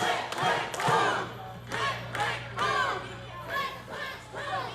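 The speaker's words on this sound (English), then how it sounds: "This crowd chanting click, click, boom." A wrestling crowd at a steel cage match chants in loud, rhythmic bursts, the repeated three-beat shout rising and falling across the arena with a constant hum beneath.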